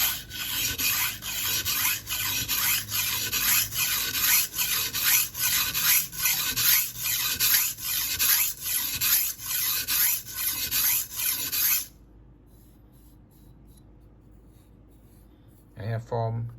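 A blade edge is stroked back and forth on a sharpening stone to raise a burr on the second side, making loud, steady rasping strokes in a regular rhythm for about twelve seconds, then near silence and a brief scrape at the end.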